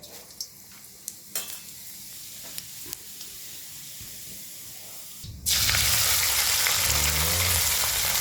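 Half a teaspoon of cumin seeds drops into hot oil in a pan on an Indian home stove in Udaipur. A loud, sudden burst of sizzling follows a quiet stretch of faint kitchen clatter and carries on steadily to the end.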